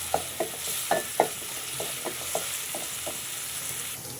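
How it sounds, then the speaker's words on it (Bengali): Onion and garlic fry in a pan with a soft, steady sizzle, broken by a string of light spatula taps and scrapes. "আমার পেঁয়াজ রসুনগুলো তো একদম লাল লাল করে ভাজা হয়ে গিয়েছে"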